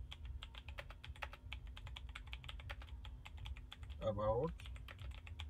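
Rapid, even keystrokes on a computer keyboard as a prompt is typed, close and fairly quiet, with a brief spoken word partway through.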